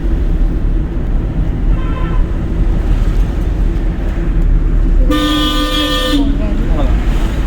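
A car horn honks during a driving lesson in traffic: a faint short toot first, then a loud sustained blast lasting about a second, over constant engine and road noise with people talking.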